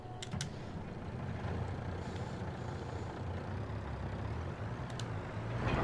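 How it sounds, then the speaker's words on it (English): A lorry engine in Farming Simulator 22 drones as a steady, low rumble throughout, with a couple of brief hissing bursts near the start and the sound swelling toward the end. "I'm gonna have to get the lorry"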